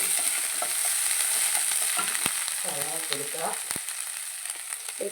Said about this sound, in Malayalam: ഇഞ്ചി വെളുത്തുള്ളി പച്ചമുളക് പേസ്റ്റ് കൊടുക്കുക ഇളക്കി കൊടുക്കുക